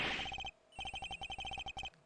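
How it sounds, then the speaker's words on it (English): A telephone rings in the Ace Attorney Investigations video game, a bright electronic trill repeating in quick bursts, pausing briefly, then resuming loud and close with no voices. "It's ringing from somewhere, sir."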